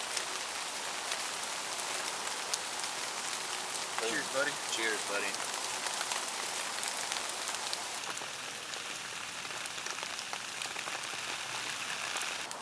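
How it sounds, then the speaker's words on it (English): Steady rain pattering on surfaces throughout, a dense even hiss, with a brief exchange of voices partway through. "maybe this rain will taper off"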